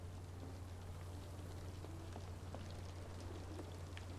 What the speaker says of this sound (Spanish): Como llueve en Londres, por favor.